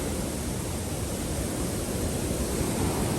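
A small river flows steadily past a portage access beside a highway, its water running high; the rush is a dense, even, continuous roar that stays close and constant with no voices over it.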